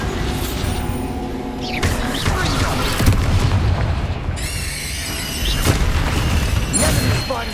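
Bombarda blasting spell explosions and combat effects in the video game Hogwarts Legacy, a dense run of booms and magical bursts with a shimmering swell midway and a voice calling out over the din.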